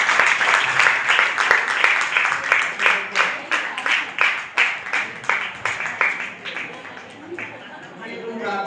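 A church congregation clapping in steady rhythmic unison, loud and close, the beat slowing and fading toward the end before a voice picks up.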